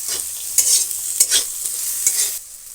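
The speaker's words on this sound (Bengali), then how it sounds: "আদার কিমা আমি এখানে দিয়ে দিলাম দিয়ে ভালো করে মিশিয়ে ভেজে নেব" Minced ginger and green chilli are stir-fried for a cauliflower samosa filling, with loud sizzling and a few quick scraping stirs of a spatula in the pan.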